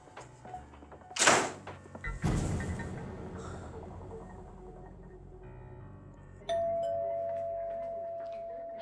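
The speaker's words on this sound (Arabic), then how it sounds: "حضرتك ما تسمع جرس الباب؟" A house doorbell rings indoors in an Arabic-language TV drama scene with a bright chime, one ring early and another later, then a sustained electronic tone toward the end, heard clearly in a quiet room.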